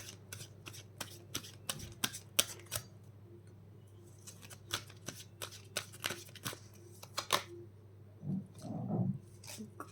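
Tarot cards are handled and flipped upright, giving a steady series of crisp close card snaps and slides, quiet overall, with a brief low murmur near the end.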